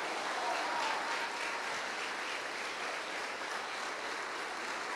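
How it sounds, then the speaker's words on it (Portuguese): A church congregation applauding, a dense, even wash of clapping from many hands that holds steady throughout without pause or voices standing out. "E vamos aplaudir ao Senhor Jesus por cada vida que está chegando."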